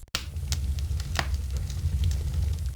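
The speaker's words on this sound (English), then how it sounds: "Grandpa Len showed Matt how to build a fire" A fire crackling close by, with scattered sharp pops and snaps over a low steady rumble, no voices.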